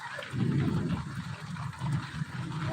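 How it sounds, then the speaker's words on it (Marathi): Rain falls steadily with a soft patter, mixed with low rumbling gusts, fairly quiet and continuous with no voices; the first rain of the season in Deulgaon Raja town, with the wind dying down and strong lightning. "वारं शांत झालंय आणि पावसाची रिपरिप बघा जोराची वीज"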